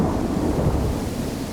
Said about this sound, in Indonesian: Ini badai besar.